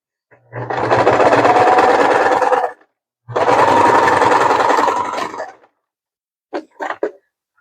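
A sewing machine stitches over a seam on a crossbody bag, running in two steady bursts of a couple of seconds each, close and loud, followed by a few short clicks as it stops.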